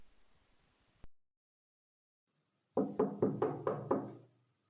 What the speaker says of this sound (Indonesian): Terdengar ketukan pintu.